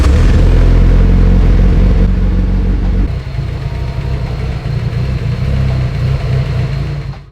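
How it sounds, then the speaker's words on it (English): Mitsubishi Evo engine, built for over 700 wheel horsepower, roaring loudly through a cold start and then settling into a steady, rough, throbbing idle close by with no talk. "Let's get a little cold start for the boys"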